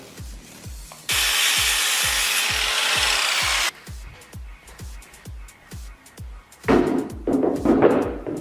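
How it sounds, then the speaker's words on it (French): A hand saw cuts through a pallet wood board at an angle: rhythmic, close rasping strokes with a steady grinding burst midway, then rougher, louder strokes at the end. "on va couper en angle droit pour éviter d'avoir une coupe nette"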